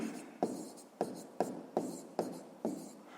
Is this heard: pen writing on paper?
yes